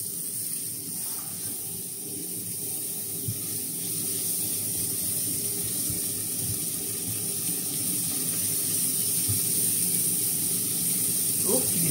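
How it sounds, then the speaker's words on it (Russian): Onion and carrot frying in very hot oil in a home kitchen, a steady broadband sizzle and hiss running unbroken throughout at an even, close level. "И жарим лук."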